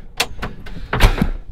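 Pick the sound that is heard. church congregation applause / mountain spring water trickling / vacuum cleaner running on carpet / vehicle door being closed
vehicle door being closed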